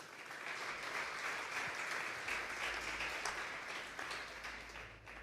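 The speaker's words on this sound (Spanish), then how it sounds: "Vamos a darle un fuerte aplauso al Señor." A Sunday church congregation breaks into loud, sustained clapping as praise to the Lord, a dense steady applause from a large group with no clear talk over it.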